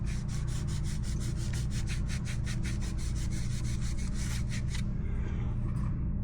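A Scotch-Brite pad scrubs the shaft of a KYB dirt bike shock, making a fast, rhythmic back-and-forth rubbing of about two strokes per second, close and steady, before stopping near the end.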